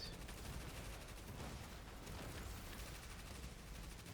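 Sustained submachine gun fire in the video game Destiny 2, a rapid continuous stream of shots with steady loudness throughout and no pauses.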